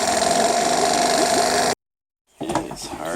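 A tiller's small petrol engine runs loud and steady after a pull on the starter cord, cuts out into a brief silence, then rumbles back with rougher, uneven sound.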